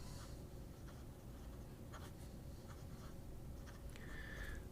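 A smooth, wet-nibbed fountain pen scratches softly across paper in quiet, continuous strokes, faint and close, with no talk.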